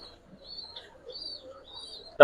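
Pigeons, Giribaz and silver coloured breeds, give a faint, low soft coo close by against quiet background chatter, ending in a sudden sharp knock.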